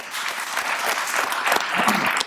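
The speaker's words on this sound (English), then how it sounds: "So we're going to give you a round of applause." A crowd claps steadily for a baseball team tribute, a dense, even burst of applause at moderate loudness with no pauses.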